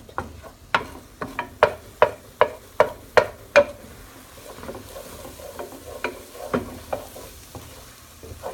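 Eggs with mixed vegetables cooking in a pan, a quiet sizzle broken by a series of sharp, regular spatula taps and scrapes, which then grow softer and more spread out.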